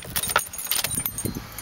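A set of car keys on Nissan and Nismo keychains, given with a Nissan Skyline, jangles in several short metallic bursts close by with no talking.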